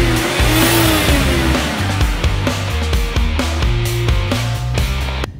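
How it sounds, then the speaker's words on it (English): A BMW 540i xDrive with 340 brake horsepower under way: a steady, loud engine drone with a rising and falling pitch as it pulls and shifts. It is close and continuous for a few seconds with no talking. "so first drive of the BMW 540i."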